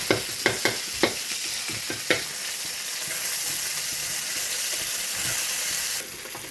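Shallots, garlic and shrimp paste fry in hot oil for a frog salad, giving a steady, close sizzle with a few sharp stirring clicks near the start before the crackle settles into a continuous hiss.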